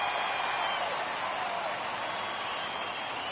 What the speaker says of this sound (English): Crowd here at County Stadium on its collective feet